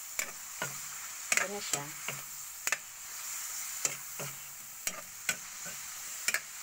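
Kangkong tossed with pancit canton in a pan, a faint steady sizzle broken by sharp clacks of a utensil against the pan, under a quiet voice.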